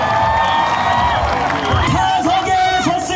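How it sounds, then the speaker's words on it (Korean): A baseball stadium crowd at an NC Dinos game during a player interview breaks into loud applause, whoops and cheering: a big, sustained roar of many voices and clapping filling the space, close and continuous throughout. "우리 한 번 더 박수 주시고요"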